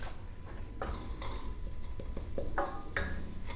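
Ginger, garlic and curry get stirred in hot oil in a pan for curried cauliflower rice, a steady sizzle with repeated scraping and clinking of a utensil against the pan, close and fairly loud.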